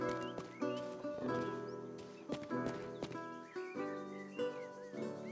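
Horse hooves clip-clop at a steady riding pace in a video game, mixed with bright game music tones and an occasional whinny, moderately loud with no talk.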